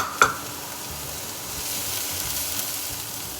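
Capsicum and carrot frying in a pan, a steady soft sizzle running throughout after a single sharp clink near the start, with no voices.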